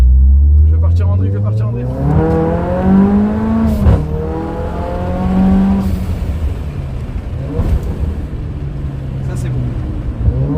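A tuned car with a Stage 2 tune, 440 hp and a Milltek exhaust revs hard while drifting, its loud engine rising and falling in pitch through gear changes, with tyre noise and occasional pops close by, and no speech over it.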